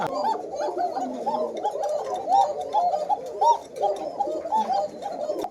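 Black Koka pigeons with two young ones, kept in a farm loft, coo in dense overlapping rolling calls close by, continuous and loud, with other pigeons cooing around them.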